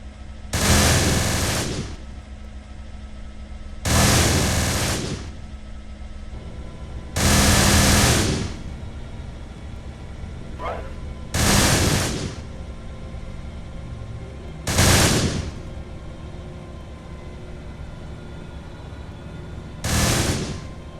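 Bursts of gunfire in a video game battle arrive as about six separate loud, harsh volleys, each lasting roughly a second and spaced a few seconds apart, over a steady noisy background with no talk.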